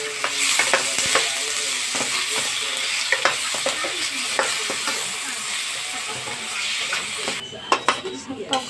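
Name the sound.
stirring misua with sponge gourd (patola) soup in a pot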